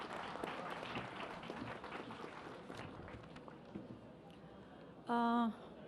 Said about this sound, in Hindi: तालियां बजाते रहें दोस्त आप लोग।